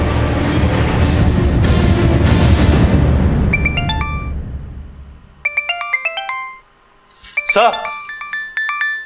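A mobile phone ringtone plays a bright repeating electronic melody in short bursts, heard after loud dramatic background music fades in a crime-show scene; someone speaks briefly near the end.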